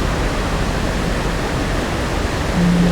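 Water running from a source through pipes and taps in ARK, a steady, loud broadband rush like a waterfall that holds even throughout, with a faint hum entering near the end.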